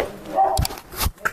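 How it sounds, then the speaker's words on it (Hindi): A dog in a Pakistani village gives a couple of short, sharp barks close by, mixed with outdoor chatter and movement. "कुत्ता भी दिखाते हैं।"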